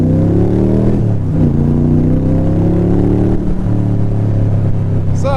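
A 5.7L Dax Tojeiro AC Cobra replica pulls hard through the gears, its loud, close engine note rising, dipping at each shift and climbing again.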